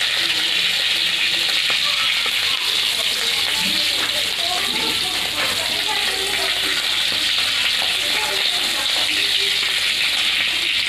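Chopped garlic sizzles loudly in hot oil in a pan during home-style chicken noodle cooking, a dense steady frying hiss with faint crackles and occasional stirring clinks running throughout.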